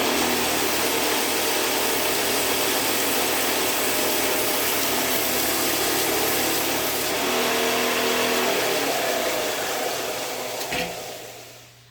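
A belt sander runs steadily while its abrasive belt is cleaned, giving a loud, constant whirring and rubbing drone that lasts about ten seconds before winding down near the end.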